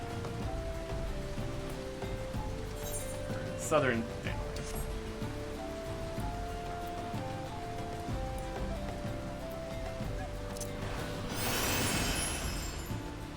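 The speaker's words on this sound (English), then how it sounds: "Still raining. It's a rainy season or something." Steady rainfall in Final Fantasy XIV, a soft continuous patter with game music and occasional effects, while someone talks over it.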